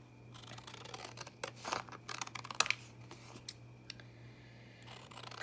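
Paper being cut with scissors up close, a series of crisp snips and rustles in irregular bursts, with quieter handling between cuts and no talking.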